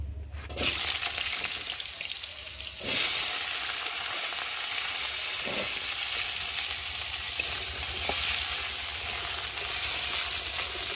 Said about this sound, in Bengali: আর এবার কেটে রাখা আলুগুলোকে দিয়ে ভালো করে ভেজে নেব।